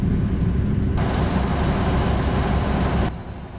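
An International S13 diesel truck engine in American Truck Simulator drones at full power in ninth gear near 1300 rpm, a loud, steady low rumble that holds for a few seconds before the tone drops back.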